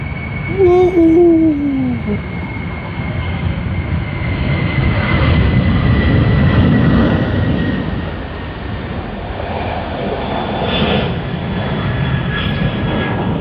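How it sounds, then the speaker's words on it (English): An airliner departs Sydney Airport with a broad roaring engine rumble that swells and holds, heard from a distance outdoors, with a brief voice at the start. "That was a wonderful departure for us, the first one of the day"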